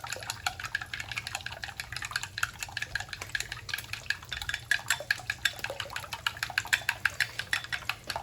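Egg whites and whole milk are whisked briskly in a bowl, giving a steady, rapid clicking and sloshing rhythm of wire against the bowl, close up with no talking.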